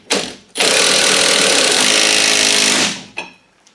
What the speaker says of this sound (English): Now it's time just to tighten everything up.